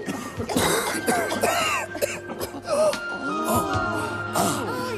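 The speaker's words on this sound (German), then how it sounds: "schrecklicher Husten ist bis Andromeda gedrungen" Several harsh coughs come in bursts, close and loud, mixed with throaty vocal sounds and a steady background tone.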